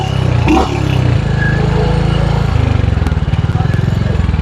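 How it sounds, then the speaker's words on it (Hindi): Royal Enfield Scram 411 motorcycle engine idling and running up close at a showroom, a steady loud thrum with a brief rev, while people talk nearby. "मुझे बाइक की आवाज बहुत बढ़िया लगती है।"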